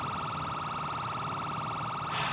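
A police car siren in GTA 5, playing for an Oklahoma Highway Patrol unit, sounds as a loud, steady electronic wail that holds throughout, with a sharp burst of noise right at the end.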